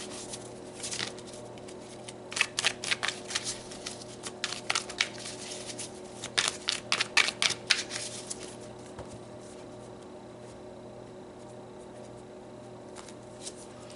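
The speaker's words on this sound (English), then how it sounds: "All right, let's pull some more cards." Tarot cards are shuffled in several quick bursts of riffling flicks and taps, close and fairly quiet, with pauses between bursts and a quiet room afterward.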